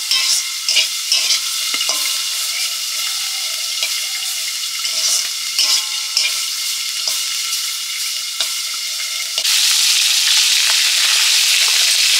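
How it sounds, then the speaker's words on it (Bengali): Pieces of boal fish fry in a pan with a continuous close sizzle, punctuated by scraping stirs and small crackles, then a louder, denser hiss near the end; no voices. "মাছগুলো ভাজছি।"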